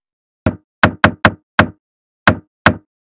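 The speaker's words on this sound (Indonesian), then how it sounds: "Sampai saja di ruang tamu, pintu diketuk lagi. Kali ini ketukan berirama." Someone raps on a house door in a rhythmic pattern, seven crisp close knocks in a quick uneven sequence against silence.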